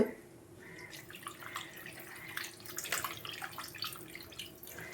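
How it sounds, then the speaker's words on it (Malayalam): Water pours steadily into a pot of fish curry on the stove, a soft, continuous trickling and splashing that stays fairly quiet throughout with faint background noise. "തൽക്കാലം ഇത്രയും വെള്ളമേ വെക്കുന്നുള്ളൂ"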